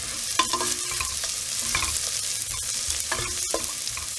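Onions stir-fried in a hot pan for chicken fried rice: steady close sizzling with repeated scraping stirs at irregular intervals, no voices.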